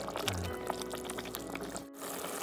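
Chicken cooking broth poured into a pot, a short faint gurgling trickle of liquid lasting a couple of seconds with a brief pause near the end.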